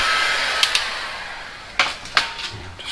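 A heat gun set to its highest setting blows hot air onto a Wagner or Titan 440 paint sprayer pump during a piston and packing rebuild, giving a steady close airy roar broken by a few sharp knocks and taps.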